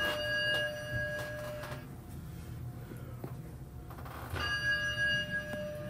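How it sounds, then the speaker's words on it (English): The bell of a Schindler traction elevator in a Hilton Garden Inn parking garage in Charlotte rings in two clear chimes, one near the start and one near the end, over steady mechanical hum and a faint rumble. "This one has a bell once again."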